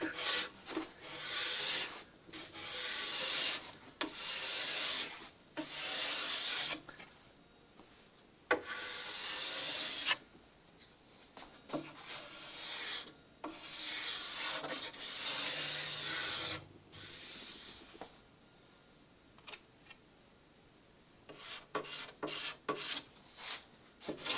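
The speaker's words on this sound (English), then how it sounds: "See if we give that a light scrape, see if we can make that show up a bit better." Light hand scraping on a wooden boat console for a Catalina Wherry build, repeated rasping strokes in uneven bursts with short pauses between, close and fairly quiet, no voices.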